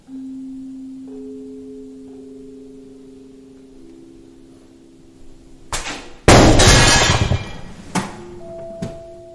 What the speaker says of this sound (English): Вот эта полка упала.